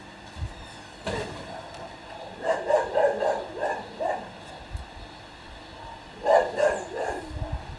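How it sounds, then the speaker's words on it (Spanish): A dog barks in a short series of close, sharp woofs, with a second burst of barks a few seconds later, set within a quiet ambient backdrop. "Ahí está mi perro."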